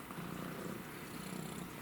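A house cat purrs in a steady, continuous low rumble, close but faint and alone.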